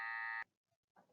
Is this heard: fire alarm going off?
yes